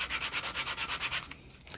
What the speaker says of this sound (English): I'm just going to keep sanding till I touch the wood